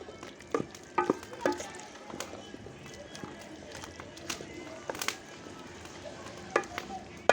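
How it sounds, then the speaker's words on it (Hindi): Potatoes go into a pan of cooked spinach and spices for aloo palak, bringing sizzling and frying with stirring and scraping clatter, while someone talks over it. "अब हम डालेंगे इसमें अपने आलू"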